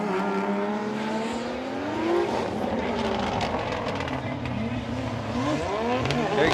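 A Toyota JZA80 Supra drift car races through a Formula Drift Japan battle, its engine revving and wailing in rising and falling sweeps with tire squeal, under a commentator's voice.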